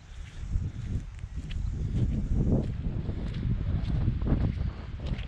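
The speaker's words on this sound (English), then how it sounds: "So it's very breezy today" Strong wind of roughly 18-20 knots gusts across the microphone at a seaside park, a loud, rumbling buffet that surges and eases in uneven waves.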